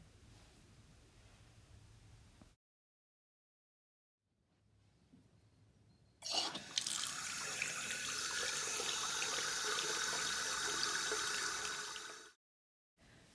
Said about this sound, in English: We're looking at the way the water's running, the shapes it's making in the sink.